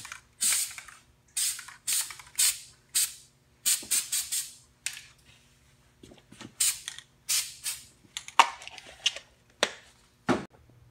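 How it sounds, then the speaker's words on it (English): A Rust-Oleum spray can sprays glitter paint up into the air in a series of sharp, close hissing bursts of about half a second each, separated by short pauses and faint rattles. "Instead of spraying it directly on it, I'm just gonna kind of spray it up."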